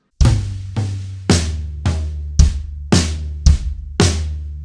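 Slow drum kit beat from a song: eight evenly spaced, loud strikes of kick and snare with cymbals ringing over them, each decaying before the next, with no voices.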